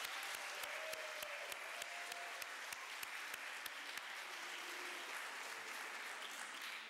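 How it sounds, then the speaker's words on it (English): A round of applause in a high school fine arts festival audience, fairly quiet and distant, with a few sharp isolated claps standing out at an even rhythm over the softer crowd clapping. "So let's give Mrs. Ladensack a nice round of applause."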